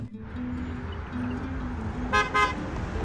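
Two short car horn toots near the end, close by, over a steady rumble of traffic and engine noise in Abu Dhabi.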